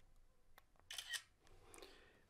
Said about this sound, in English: And you can hear the shutter sound one more time.